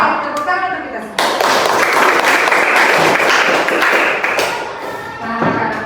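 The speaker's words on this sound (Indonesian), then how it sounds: "tepuk tangan untuk kita semua" A classroom of children bursts into clapping for everyone, a loud, brisk patter of many hands that swells after a short pause and then tapers, with some chatter mixed in.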